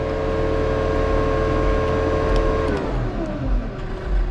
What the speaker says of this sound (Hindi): तो आपका ट्रैक्टर ऑटोमेटिक आरपीएम बढ़ते चले जाएंगे आपके